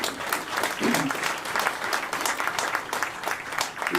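A crowd applauds steadily at the outdoor Opportunity Corridor ribbon cutting, a road project linking I-490 to University Circle. The clapping is full and continuous, with a brief voice heard in the background.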